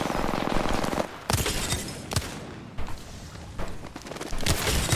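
Sharp gunfire from an Apex Legends fight crackles in quick, close bursts, with several heavier single shots landing between the volleys and no speech.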